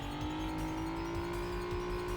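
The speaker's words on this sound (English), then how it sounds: "Back into the car and accelerate away." A car in the Stuntman video game accelerates away, its engine note climbing steadily in a continuous rising whine at moderate, even loudness without any voices.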